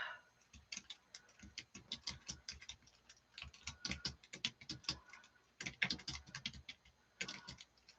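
Typing on a computer keyboard, a quiet run of quick clicky keystrokes in irregular bursts with short pauses between.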